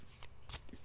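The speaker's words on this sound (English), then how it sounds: "Shuffle and 2-card draw" Tarot cards being shuffled by hand, a brief run of crisp riffling and sliding card noise close up, with no talking.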